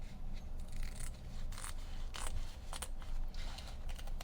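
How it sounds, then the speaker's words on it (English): Scissors cut a Dollar Tree drawer liner in a string of close, repeated snips and rasping slices over steady background noise. "I'm gonna roughly cut this around the same"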